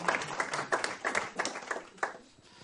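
An audience in a performance hall gives brief, sparse applause, a scattering of close hand claps in an uneven rhythm that fades after a couple of seconds.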